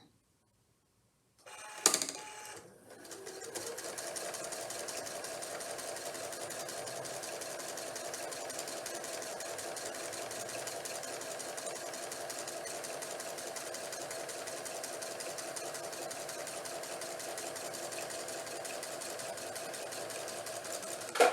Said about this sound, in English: now let's just turn it around and stitch on the other side